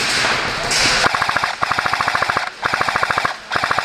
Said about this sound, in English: I need you to put some suppressant fire on the blue windows.